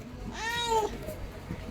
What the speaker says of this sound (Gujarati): આપણે મળી ગયા નાના નાના મીંદડા.